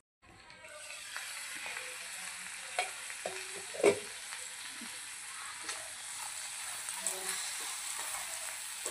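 Mutton masala sizzles and fries on a tava over a low gas flame, a soft, steady crackle with occasional scraping stirs and light taps from a utensil, fairly close and alone.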